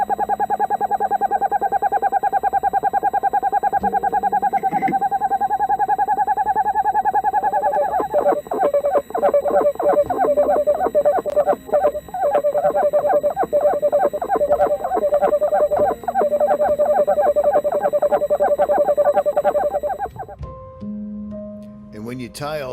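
An owl calls in long, loud, sustained tonal hoots that run almost unbroken for about twenty seconds, then stop abruptly near the end.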